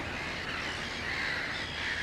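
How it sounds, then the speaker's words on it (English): A colony of black-headed gulls mixed with terns calls at a distance, a dense, continuous chorus of harsh overlapping squawks and cries. "it looks like a colony of black-headed gulls, but in amongst them are terns"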